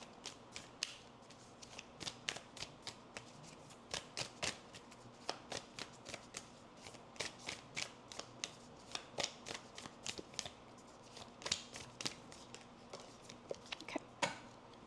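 Oracle card deck shuffled by hand in steady rapid riffles, a long run of crisp papery slaps and flutters, close but quiet, with no talking.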